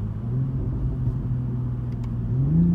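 A Toyota MKV Supra GR Launch Edition engine while driving, a steady low rumble from inside the car that rises slightly in pitch toward the end, with no talk.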